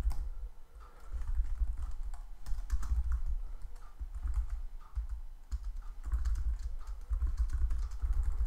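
Rapid, continuous clatter of keys on a computer keyboard, close and steady for several seconds, with short pauses between bursts and no talking.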